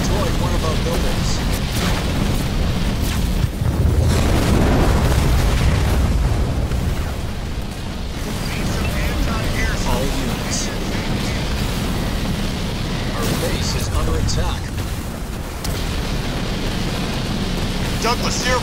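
Repeated explosions and heavy booms as an enemy structure is destroyed in the real-time strategy game Halo Wars 2, a dense, loud barrage of blasts and battle noise continuing throughout.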